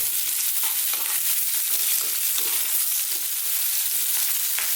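Pieces of fish stir-fry over high heat for sweet and sour fish in a Chinese takeaway style. A steady, bright sizzle and crackle fills the pan with soft stirring scrapes and no talk.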